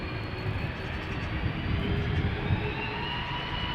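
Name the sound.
KLM Airbus A330-200 jet airliner engines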